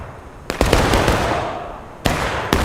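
Artillery gunfire in a Civil War battle video game set in the Manassas Campaign, with sharp booming reports near 0.5, 0.6, 2.05 and 2.5 seconds over a continuous rumbling battle din.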